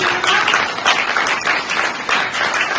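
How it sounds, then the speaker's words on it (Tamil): Audience clapping at a World Autism Day celebration, a dense steady patter of many hands lasting a few seconds, fairly loud and close throughout. "சோ எல்லாரும் ஜோரா கைத்தட்டல்."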